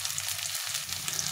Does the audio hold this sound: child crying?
no